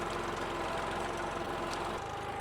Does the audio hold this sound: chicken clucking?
no